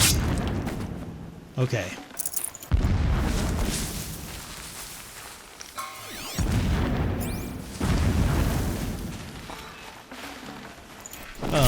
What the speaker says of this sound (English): we know what the explosions are, right? We've heard those explosions before.